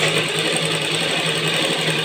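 A sewing machine runs steadily, stitching through cloth with a fast, even mechanical whir and rapid needle ticking close by, with no talk.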